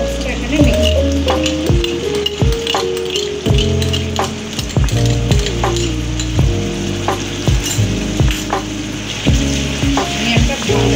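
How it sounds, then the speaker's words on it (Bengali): Chilli chicken frying in a pan as sauce is stirred in, a steady sizzle with repeated scraping knocks of a spoon against the pan, close and continuous under a music bed. "এবার আমি সসটা এখানে মিক্স করবো।"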